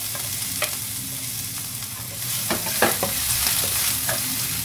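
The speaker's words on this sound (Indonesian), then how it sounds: "sekarang di sini saya akan mau tumis bawang putih dan bawang merah ya" Garlic and shallots sauté in a small amount of oil, giving a steady, close sizzle broken by the clicks and scrapes of stirring, which grow busier toward the end.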